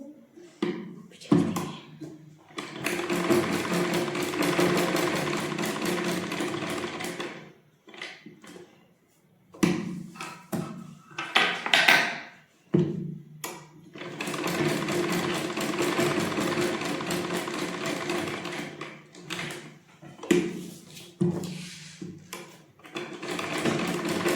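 An electric sewing machine stitching fabric for basic stitches runs in loud steady bursts of rapid mechanical chatter, pausing briefly between runs, close up with no talk.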